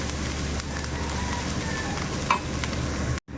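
Garlic and onion sizzle steadily in hot oil in a pan, a continuous dense crackling hiss close by with a faint utensil scrape partway through, then a sudden brief cutoff at the end.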